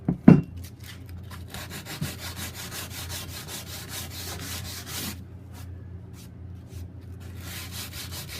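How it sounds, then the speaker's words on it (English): Sandpaper rubbed by hand over wooden parts of a king-size bed frame under construction, a steady close scraping with a sharp knock at the start and a brief break near the five-second mark. "Touch it up here with a little bit of sandpaper."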